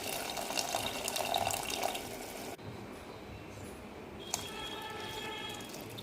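Water from a glass goes into a pot of tomato rasam made with tamarind juice and cooked tomatoes, a steady pour splashing for about two seconds, then a quieter liquid wash continues in a home kitchen.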